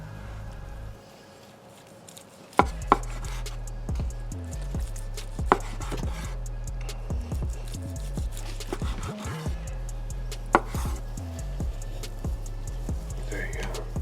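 A knife slices through a smoked beef tongue roast cooked to 150 degrees inside on an OKJ Bronco smoker, giving a run of soft, irregular cutting thumps and scrapes close by, with talk over and between the cuts.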